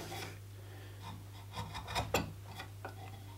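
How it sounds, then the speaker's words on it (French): A wood chisel pares a little material from a chair's front leg joint, giving a few short close scraping strokes that cluster in the middle, faint and alone. "je vais enlever tout doucement un petit peu de matière, comme ça, juste un petit coup de ciseau pour venir égaliser"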